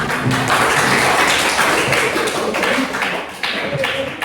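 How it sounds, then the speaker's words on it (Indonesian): Students in a classroom clap for a classmate, a loud, close, dense patter of many hands beating steadily for several seconds without a break. "Tepuk tangan untuk temennya"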